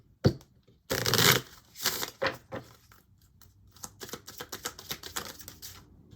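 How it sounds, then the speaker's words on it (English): Cards being pulled from a deck of relationship cards, a series of sharp slaps, riffles and papery flicks, close-up and irregular with short gaps between them. "Let's pull out the relationship cards here for you, Aquarius."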